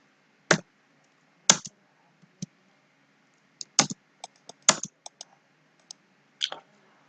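Keys clatter on a computer keyboard as a line command is entered in AutoCAD, with sparse, irregular clicks and short bursts of quick taps separated by quiet gaps, close and crisp with no talking.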